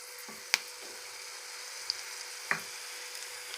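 Coriander seeds and fenugreek frying in hot oil for a dried red chilli gongura chutney, a steady faint sizzle broken by a few sharp crackles and pops of seeds hitting the pan.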